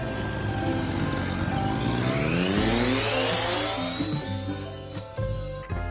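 A tractor works an intercropped cassava and corn field, its engine droning loudly and continuously close by, the pitch rising as it revs and then easing back, with a few short knocks near the end.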